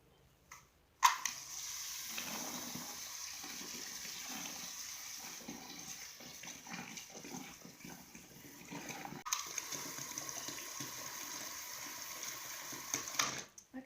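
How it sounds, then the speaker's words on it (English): Water gushes into a bucket filling it to the top for compost tea, a steady rushing pour that starts abruptly, shifts in tone partway through and runs on fairly quietly. "And now I'm just going to fill it to the top with water."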